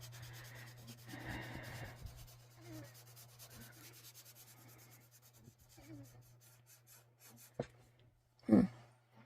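Soft, intermittent scratchy rubbing of a colored pencil on paper during blending, quiet strokes in short bursts with a steady low hum underneath and a louder scuff near the end.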